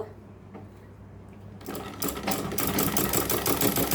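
A sewing machine running a second line of stitching over an existing lace join seam, quiet at first, then a steady, loud, rapid mechanical whir with fast rhythmic needle ticking.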